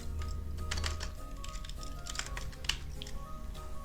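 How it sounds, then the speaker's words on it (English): Computer keyboard typing as a network interface command is entered, a light, quiet run of close key taps with no talk. "let me just hook this interface up again by typing the command"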